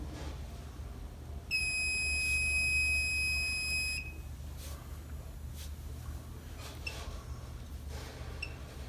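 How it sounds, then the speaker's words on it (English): A high oil alarm on an oil water separator emits one sustained, piercing electronic tone lasting a couple of seconds against a steady low hum, then a few faint short chirps. "you will get the high oil alarm."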